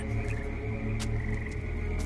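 Frogs croak in a steady, continuous chorus, with occasional sharp clicks over the droning calls, in a dramatized audio Bible reading of Exodus 8 and the plague of frogs.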